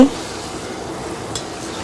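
Eggs sauté in a pan with garlic, giving a steady low sizzle and faint stirring close by, with a small clink near the end and no talking.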